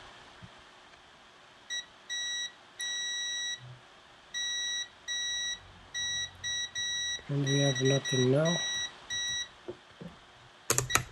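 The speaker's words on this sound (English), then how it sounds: "It just beeps," A Mastergames Famiclone console that fails to power on gives out a string of repeated short electronic beeps in evenly spaced bursts. Someone talks briefly partway through, and a clatter comes at the end.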